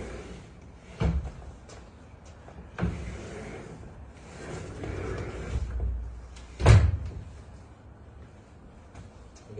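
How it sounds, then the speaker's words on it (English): A sticking sliding door is opened, giving a couple of dull knocks followed by a louder scraping thump as the panel drags along its track, in a quiet room without speech. "we have a sliding door here that's getting a little bit stuck"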